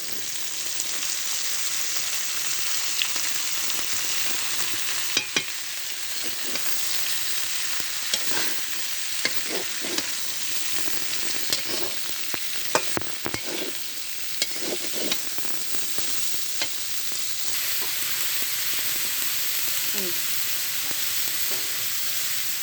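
Beetroot-kohlrabi and turnip stalks fry in a pan with a steady sizzle, broken by scraping and tapping of a spatula as they are stirred, close and fairly loud, with no talking.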